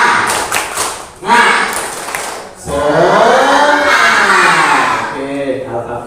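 Classroom rhythmic spirit clap (tepuk semangat) led by a teacher: a short burst of quick claps, then loud group voices chanting over and between the claps, all close and lively.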